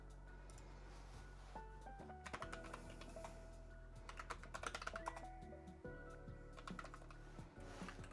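Fingers typing on a computer keyboard, quiet bursts of rapid key clicks with short pauses, close by against a low steady hum.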